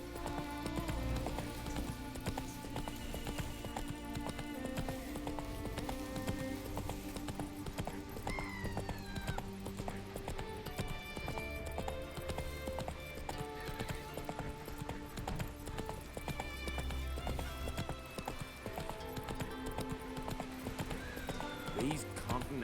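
Roach, Geralt's horse in The Witcher 3, gallops on and on, rapid hoof clops mixed into a dense, loud musical score, with occasional neighs and character speech over the top.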